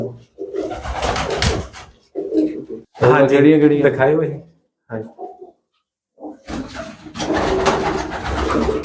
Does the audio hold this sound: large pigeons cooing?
yes